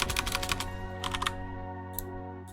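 Fast bursts of typing on a computer keyboard, close and clear, with pauses between runs over a steady electrical hum.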